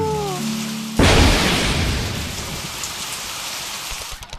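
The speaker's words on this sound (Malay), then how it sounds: "Tunggulah hujan berhenti. Ha? Ha. Bila hujan nak berhenti?" Heavy rain begins abruptly after a brief tonal sound, then falls as a loud, steady wash that eases slightly toward the end.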